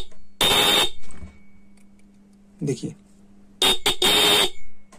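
A repaired bike horn runs off a 12 volt transformer and blares in loud, harsh buzzing blasts: one long honk, a short weak one, then several rapid honks. Someone speaks briefly between them.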